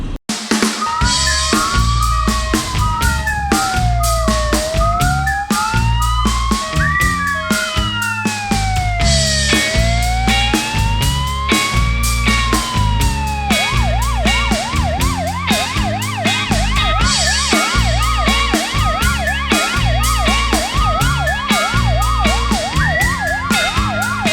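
Ambulance siren wailing in loud, repeated rising and falling sweeps, then switching to a rapid warbling yelp, continuous over a dense low rumble of traffic or engine noise, with no talking.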